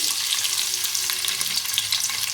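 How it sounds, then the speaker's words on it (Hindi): Onions frying in hot oil give off a loud, dense crackle and sizzle close up, with soft stirring underneath and no voices. "ये ऑयल गर्म हो जाए तो हम प्याज को हम लोग फ्राई करेंगे"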